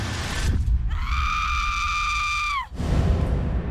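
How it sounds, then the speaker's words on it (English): A single sustained scream used as a sound effect in horror storytelling rises out of a noisy background, holds a steady pitch for about two seconds, then drops off sharply, loud and close. "I was jolted awake by the sound of screaming"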